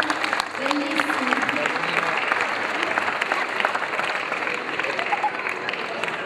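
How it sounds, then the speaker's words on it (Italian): Sustained applause from an audience for the presentation of an award plaque at a Royal Tour event in Ragusa, dense steady clapping throughout, moderately loud, with some voices mixed in. "Eccola, ancora l'applauso, sottolineiamolo."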